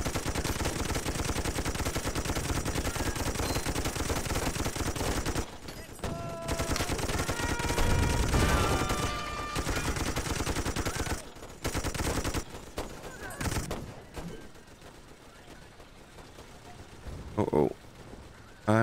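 Gunfire in the toy-army battle game Toy Soldiers HD, dense bursts of machine-gun and rifle fire with explosions, loud and continuous with brief gaps, while someone talks over it.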